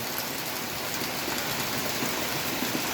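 Heavy continuous monsoon rain pouring steadily, a dense even hiss of countless drops on surfaces without pause, loud and close.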